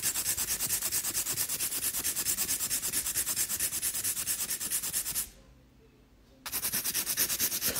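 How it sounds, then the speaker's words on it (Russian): A nail file rasps steadily back and forth across a fingernail, close and continuous, stopping abruptly for about a second before the scraping resumes. "я пойду допилю уже себе этот ноготь спокойно"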